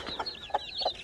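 A silkie hen with her chicks, soft clucks and high thin cheeping at close range in a brief, quiet moment.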